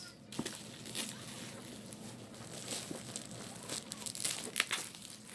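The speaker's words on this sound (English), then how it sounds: "well, unwrapping the box." Plastic shrink wrap crinkles and tears as a boxed Cashflow board game is unwrapped, with a steady run of close, rustling crackles and a few sharper tearing bursts.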